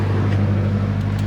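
Toyota Innova engine running steadily nearby, a loud low hum with a constant drone and no change in pitch, heard alone in a brief burst.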